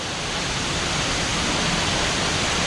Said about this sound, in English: I'm soaking wet now from the waterfall, which has cooled me down a little bit